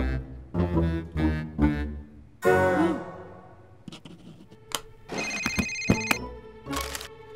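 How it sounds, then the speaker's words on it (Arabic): A telephone rings in a library, a loud electronic ringtone in repeated bursts, each short ring cutting in over low room sound. "تليفون منو هذا؟"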